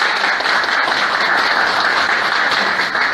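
Steady applause from an audience at a lecture, dense and continuous clapping that holds evenly throughout, with no talking over it.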